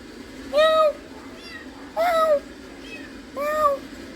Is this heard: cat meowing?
yes